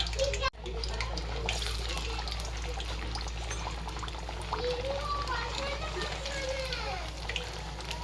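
Poha vada fries in hot oil over a medium flame, a steady close sizzling bubble running throughout, while someone talks over it and children's voices are faintly heard.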